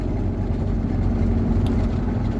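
A truck rolls along the road with a steady, continuous engine drone and road rumble that holds at an even level throughout, with no other sounds over it.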